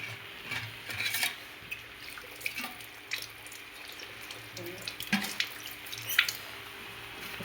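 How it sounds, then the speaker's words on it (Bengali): Water poured into a pot while cooking a curry, a soft running splash with small clinks, fairly quiet and close, with faint speech in the background. "একটু জল দিয়ে দিলাম।"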